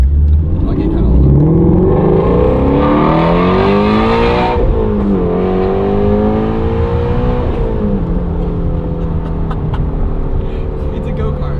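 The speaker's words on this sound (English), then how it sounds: "this is the Grigio GT40 motor" 2015 Ford Mustang Shelby GT350R with its flat-plane-crank V8 revs hard while driving, the engine note climbing and dropping through gear changes, loud and close from inside the cabin, with people talking over it.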